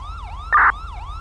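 A loud wailing police siren in LSPDFR, a GTA V police mod, sweeps up and down continuously, interrupted briefly by a short harsh blaring horn burst in the middle.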